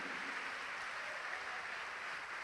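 A church congregation claps together during a sermon, a dense, steady wash of many hands applauding at once, sustained and even across the whole moment.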